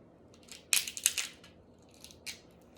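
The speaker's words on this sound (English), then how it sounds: "I cut it with scissors" A few sharp crunchy snips of scissors cutting through crab shell, in two quick bursts close by, with quiet pauses between.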